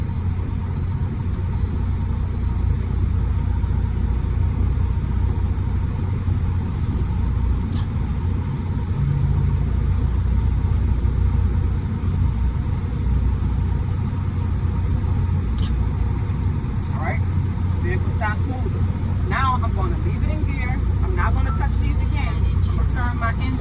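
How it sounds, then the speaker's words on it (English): A truck engine idles and rumbles steadily at a low pitch throughout a service brake test at slow rolling speed, loud and close, with someone speaking over it. "I'm going to roll forward at 5 miles per hour. I'm going to apply my service brake, and my vehicle should stop smoothly."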